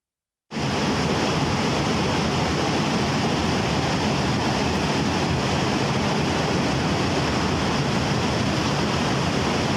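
Fast-flowing floodwater after storm rains in Muzaffarabad, Azad Kashmir, a dense, steady roar of rushing water that starts abruptly after a brief silence and holds loud and unbroken, with no voices.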